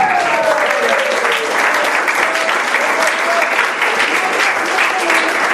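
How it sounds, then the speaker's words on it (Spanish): Congregation at a church service applauding, a dense, steady wash of clapping from many hands that fills the room throughout, with a voice faintly audible beneath it. "Un aplauso al Señor."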